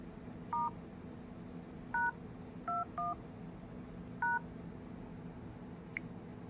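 An Android phone keypad dialing *#21#, producing five short dual-tone beeps in uneven rhythm followed by a faint final blip, over a steady low background hum, close and clear with no talking.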